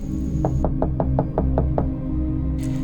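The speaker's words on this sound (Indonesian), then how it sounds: "Ketukan, bukan di pintunya, tapi di dinding." About eight evenly spaced knocks on a wall in a quiet rented house at night, firm and close, with a low hum underneath.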